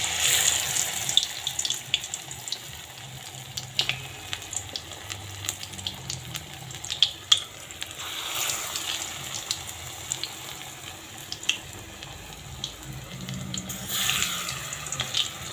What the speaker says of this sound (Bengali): তো চলো বড়াটা ভেজে নামিয়ে নিয়ে আসি।